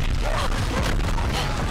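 Bomber explosions rumble in Call of Duty Vanguard, heavy booms and crashes layered into a dense, continuous roar of battlefield noise, loud and close throughout.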